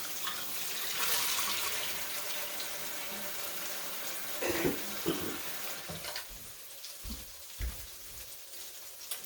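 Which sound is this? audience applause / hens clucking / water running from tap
water running from tap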